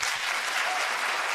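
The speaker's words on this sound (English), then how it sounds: "Applause for the answer." Dense audience applause at a political debate, a continuous even burst of many hands clapping with no pauses over the whole short stretch.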